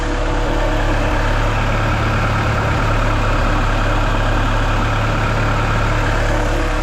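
A turbocharged Honda B16 engine in a CR-V idles loudly and steadily up close, a constant low throbbing hum with no talking.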